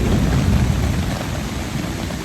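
Heavy rain pounds a tarp over a hammock at a mountain campsite while deep thunder rumbles loudly through the downpour, with gusting wind adding to the roar.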